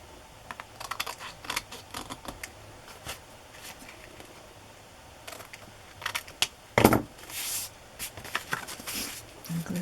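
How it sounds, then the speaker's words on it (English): Paper scraps being trimmed along their edges with scissors, giving soft, irregular snips and rustles close by in a quiet room. "I'm going to just trim off the edges."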